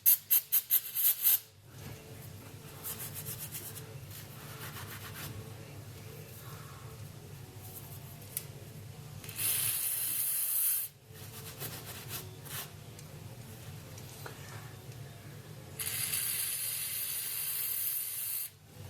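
Solvent sprayed in bursts while a toothbrush is cleaned for throttle body cleaning, with sharp hissing blasts near the start, in the middle and at the end over a quiet low hum between them.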